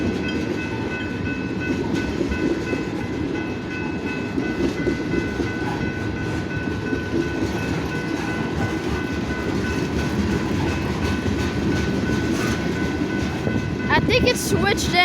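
BNSF mixed freight train carrying many tank cars rolls by close up, a continuous heavy rumble and rattle of wheels and wagons, with a brief horn-like burst near the end.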